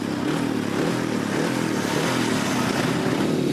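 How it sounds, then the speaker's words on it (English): An ice speedway racing motorcycle engine idles and runs steadily at the start of a World Championship semi-final, a loud continuous buzzing drone heard up close. "Bike started, bike's ready."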